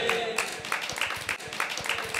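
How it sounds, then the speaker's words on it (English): A live audience at a small talk show claps and cheers after a magic trick, a steady close burst of hand clapping over a couple of seconds. "Let's give him a round of applause."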